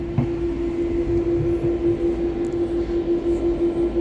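A London train running towards Beckton, a steady near drone with a constant tonal hum and low rumble, no voices.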